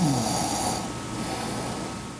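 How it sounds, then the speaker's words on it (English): A patient snores during an overnight sleep study, a single faint snore near the start that fades into quiet room hum. "And the patient had a few small snores."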